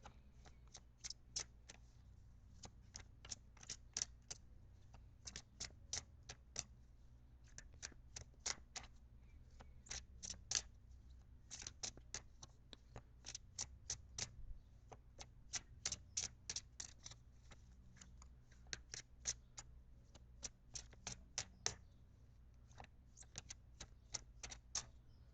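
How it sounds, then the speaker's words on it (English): Tarot cards are shuffled repeatedly in quick riffling bursts of crisp, snappy clicks, close up, with short pauses between rounds and a low steady hum beneath. "I'm going to shuffle the cards."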